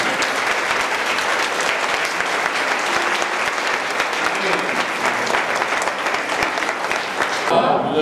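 Church congregation clapping in unison at a worship service, loud, dense and rhythmic applause from a crowd close by, with voices faintly mixed in, then stopping abruptly at the very end.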